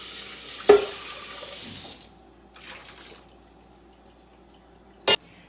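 Washed raw rice is stirred in water, giving a wet, swishing rustle for about two seconds, a softer second stir, then a sharp clink near the end in a quiet kitchen.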